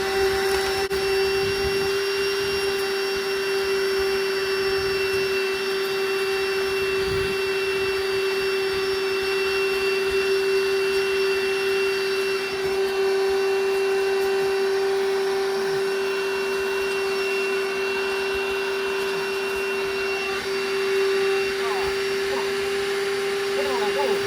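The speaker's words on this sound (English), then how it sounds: "The DeWalt wet dry vac, just perfect for this kind of job." A DeWalt wet dry vac runs steadily throughout, a loud constant motor whine with a strong high-pitched tone, sucking up material during gold prospecting on bedrock in northern Nevada, with faint scraping and knocks beneath.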